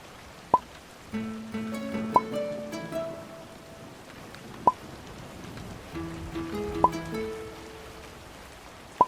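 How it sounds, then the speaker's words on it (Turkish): Steady soft rain patter fills the background, with a few sharp drips or taps and faint tonal hums mixed in. "Yağmur başladı."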